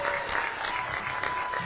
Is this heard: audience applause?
yes